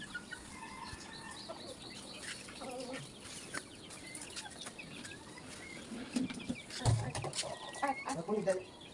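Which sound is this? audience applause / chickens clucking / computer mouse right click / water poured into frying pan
chickens clucking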